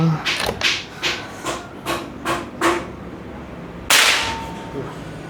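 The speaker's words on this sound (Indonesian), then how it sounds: "Oke, tembakan kedua" Several sharp, snappy shots from a PCP Apache air rifle at 5000 PSI, about 1420 fps, ring out at roughly even intervals, followed by a louder, harsher burst near the end.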